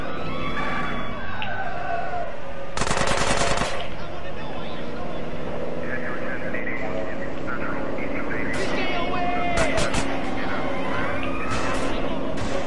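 Gunfire in GTA San Andreas crackles in bursts over engine drone and game noise, with a dense rapid volley early on and scattered shots later, while a person talks throughout.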